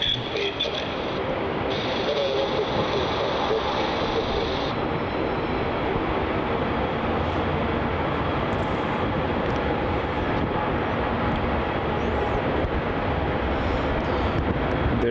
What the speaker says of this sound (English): There it is, rotating out of runway 16 off to Shanghai. The Shanghai Airlines 787-9.